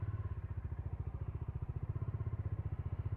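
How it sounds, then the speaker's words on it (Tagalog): A Bajaj Dominar 400 motorcycle idles close by after a crash, its single-cylinder engine thumping in a steady, quick, even pulse with no talk over it. "Okay, okay yung motor natin pwede ibiyahe."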